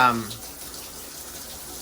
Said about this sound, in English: you might want to take a shower, something like this, and you just kind of stick it in the showers like so